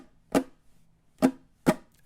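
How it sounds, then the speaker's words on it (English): A ukulele strummed in a sparse pattern with muted misses, three sharp, percussive strokes spaced unevenly over a couple of seconds and a fourth just starting at the end, close and clear with no talk. "And that might sound like this to be played."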